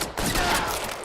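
Sustained gunfire from the LA Noire video game, a dense rapid volley of shots running continuously for about a second at moderate loudness, with no talk over it.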